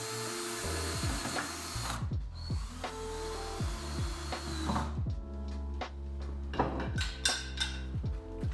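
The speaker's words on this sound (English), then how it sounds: "and now we drill" A power drill whirs in short bursts close by while drilling clamped wood for cabinets, its motor pitch rising and falling as it bites in, with clicks and handling noises between runs.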